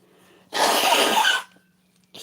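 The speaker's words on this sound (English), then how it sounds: "I'm just blowing my nose." One close, forceful nose blow lasts about a second, a loud breathy rush that stops abruptly and is followed by quiet.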